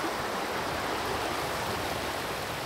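Fresh, cold stream water rushes steadily at a wilderness river crossing in the Käsivarsi fells of Finnish Lapland, a close, even broadband wash with no voices over it.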